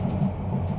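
Paryatak Express passenger train with Korean-built coaches on the Dhaka to Cox's Bazar route, a steady loud low rumble of carriages rolling along the rails, continuous and close, with no talk.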